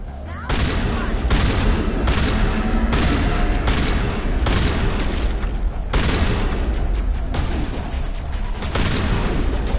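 Dense, sustained booming and crackling from combat in Mass Effect Legendary Edition, loud and continuous across the whole stretch with repeated heavy impacts, like an explosion with gunfire layered in.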